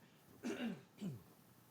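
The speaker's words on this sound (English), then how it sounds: "Sorry, I got to clear my throat." Two quick, rough throat clearings, close and fairly quiet, the first longer than the second.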